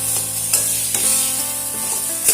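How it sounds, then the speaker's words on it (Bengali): Boiled, mashed potato is stirred into spices in a frying pan for egg chops, with soft scraping strokes and a low steady sizzle close by, and no talking. "এবারে সেদ্ধ করে রাখা আলু এর মধ্যে দিয়ে দিচ্ছি।"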